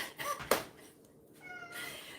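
A house cat meows close by in a home shared with many cats, one clear drawn-out call followed by softer whining sounds and a faint voice.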